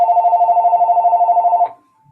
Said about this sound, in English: Cue the phone. Hearing the phone.